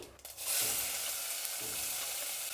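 Onion dropping into hot oil with mustard seeds in a pressure cooker, sizzling loudly and steadily after a short clatter at the start, close and continuous with no voices.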